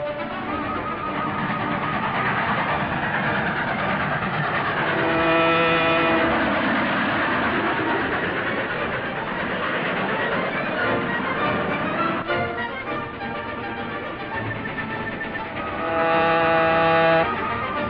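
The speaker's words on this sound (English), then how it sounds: "Follow the train." A train running in an old film serial, a continuous broad rumble and clatter with occasional horn-like tones, steady throughout with no speech.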